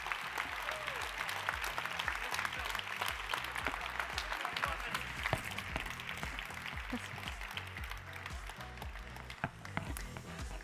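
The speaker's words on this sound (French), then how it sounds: "Sous vos applaudissements." Audience applause at a political party congress in France, a dense, steady wash of clapping from a large crowd filling the hall, continuous and fairly loud throughout, with a few voices mixed in.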